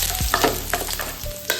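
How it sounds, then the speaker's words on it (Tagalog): Ginger, garlic and onion sizzle and crackle in a hot pan for a beef pinapaitan, with stirring scrapes and short bursts of frying close by. "magigisa na po tayo"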